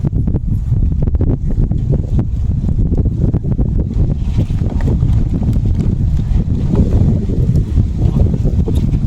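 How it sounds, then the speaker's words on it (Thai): Cold wind gusts across open countryside near water, roaring steadily into the microphone with a dense low rumble and buffeting that lasts the whole stretch, loud and close throughout. "ลมพัดมันเย็นๆนะทุกคน"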